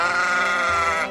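A single sheep gives one sustained, wavering bleat, close and loud, heard alone with no talking.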